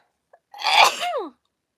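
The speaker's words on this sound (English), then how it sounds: "I feel like I'm going to sneeze." A single close, sharp sneeze with a quick breathy intake just before it, otherwise quiet.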